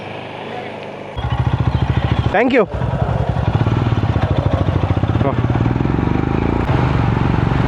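A motorcycle on a rainy monsoon road near Kukke runs with a close, steady engine drone that rises as it gets going, with a brief whooshing pass partway through and short bits of talk.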